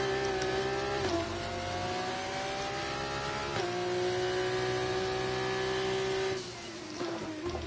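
An F1 car's engine in the F1 24 racing game drones loudly with a high whine as it drops speed entering the pit lane, pitch stepping down at gear changes before the sound eases off near the end.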